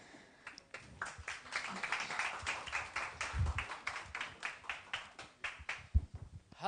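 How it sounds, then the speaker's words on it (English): A meetup audience in Thailand claps for a speaker taking the stage, individual hand claps rising and falling in a moderate, uneven patter with faint murmurs underneath. "Please, big round of applause."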